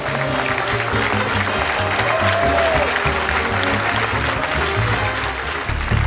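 Loud, dense applause from a comedy show audience fills the whole stretch without a break, with a few voices faintly mixed into the clapping.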